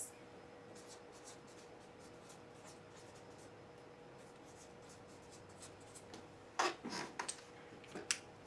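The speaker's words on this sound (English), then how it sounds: "So let's write that on our chart." A marker squeaks and scratches on a classroom chart in a 4th grade lesson: quiet, rapid strokes through most of the stretch, then louder, sharper strokes near the end over a steady background hum.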